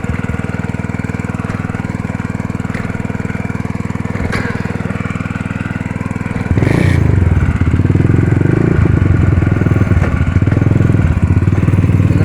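A motorcycle engine runs steadily nearby on a farm, then grows louder and rougher partway through as it is revved, with a continuous low drone throughout.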